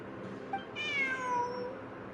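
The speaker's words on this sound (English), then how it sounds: "Look, a cat." A cat gives one drawn-out meow, rising and then falling over about a second, heard clearly against a low steady background hum, with no talking.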